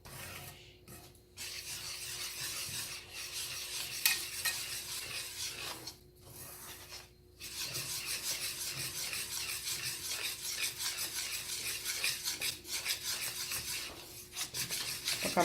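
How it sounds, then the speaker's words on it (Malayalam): Sieved gram flour whisked into sugar syrup for Mysore pak: a steady, close scraping rasp that keeps going, broken by a few short pauses. "ഷുഗർ സിറപ്പിലോട്ട് ആ അരിച്ച കടലമാവ് ആഡ് ചെയ്ത് വിസ്ക് ചെയ്തിട്ട് നന്നായിട്ട് മിക്സ് ചെയ്തെടുക്കുക"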